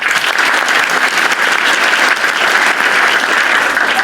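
Steady, dense applause from a crowd, continuous and fairly loud throughout with no break.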